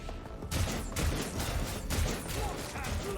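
Bursts of gunfire aimed at a sniper in Rogue Trader repeat in rough pulses at mid-distance, with mechanical clatter and rumbling impacts under a dense, noisy mix.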